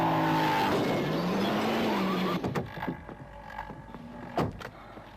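In a 1980s road safety advert, a car's tires squeal in a long skid that ends in a sudden crash into a motorcycle, followed by scattered thuds and a second sharp impact, with no voices.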